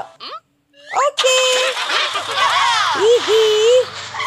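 Loud honking and squawking bird calls, goose- or duck-like, come in overlapping bursts close by, with a splashing water fountain and some voices underneath.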